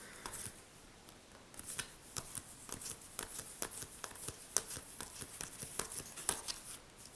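Tarot cards from a deck are shuffled and flipped through by hand, giving a quick series of crisp, close snapping and riffling flicks at an uneven rhythm, fairly quiet and with no talking.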